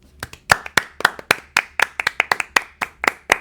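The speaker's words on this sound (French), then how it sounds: "On s'applaudit." A few people clap together in a small setting, giving a close, crisp run of individual claps at an even, brisk rhythm with no talking.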